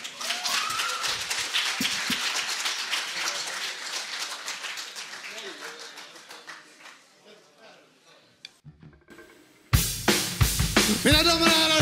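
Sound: audience applause at a rock concert

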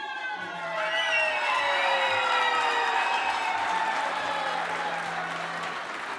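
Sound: audience applause

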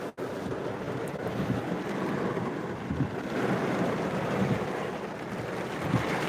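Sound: heavy rain hitting a moving car

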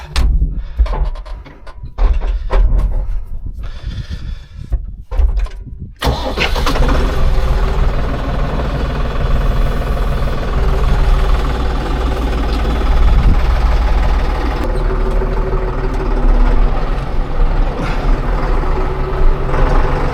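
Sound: tractor engine starting and running

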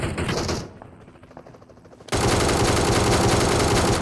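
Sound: gunfire from the video game PUBG Mobile

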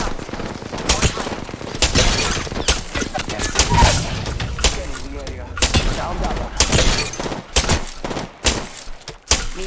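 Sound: gunfire, shots hitting player in video game Apex Legends

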